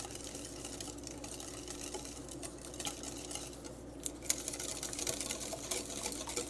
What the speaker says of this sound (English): We're going to take a whisk and whisk this around.